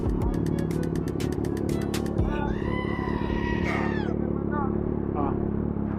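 A Kawasaki Ninja ZX6R motorcycle engine runs at a steady idle, a constant low droning hum throughout, with brief whining tones rising over it midway and people talking nearby.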